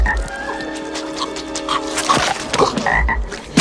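Cartoon frog croaking in an animated film, several loud rasping croaks in a row with a tonal musical score underneath and no talking.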